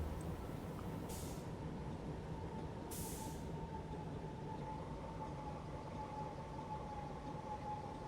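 A BR648 diesel railcar in Train Simulator Classic on the Pegnitztalbahn brakes with its air brakes, a faint, steady mechanical drone with a sustained tonal whine and two brief hissing bursts.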